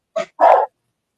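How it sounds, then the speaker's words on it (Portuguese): Two quick dog barks ring out close and loud, a short yip and then a fuller bark, with silence after. "meus cachorros!"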